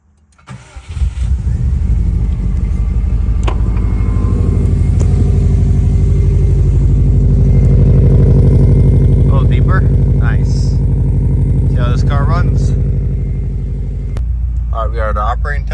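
A 2004 Subaru WRX with upgraded turbo, injectors, fuel pump and a fresh tune cranks and fires on its first start, settling into a loud, steady rumbling idle up close while people talk over it near the end.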